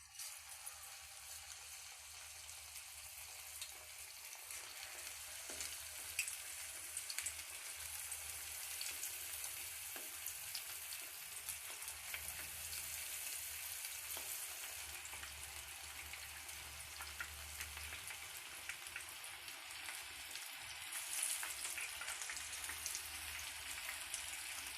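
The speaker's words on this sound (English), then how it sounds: "We will deep fry the pieces now." Marinated chicken pieces deep frying in hot oil for a spicy Chicken 555 dish, a steady close hiss and crackle of sizzling that holds at an even level throughout with no talking.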